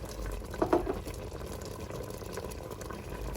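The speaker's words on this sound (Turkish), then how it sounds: "Tencerem ocağın en küçük gözünde ve yavaş yavaş kaynıyor." Soft, low bubbling of thick apricot jam simmering in a pot on the smallest burner, steady and quiet with a brief louder blip.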